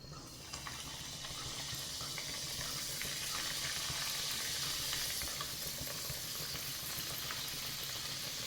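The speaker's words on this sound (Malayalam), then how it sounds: "നമുക്ക് ഓരോ പീസായിട്ടിട്ട് വറുത്ത് കോരിയെടുക്കാം." Milk cake pieces deep fry in hot oil in a pan, giving a faint, even, continuous bubbling sizzle that grows slightly fuller after the first moment.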